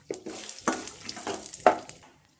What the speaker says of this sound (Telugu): పల్లీలు మంచిగా పచ్చి పచ్చిగా పోయిందాక గోలాల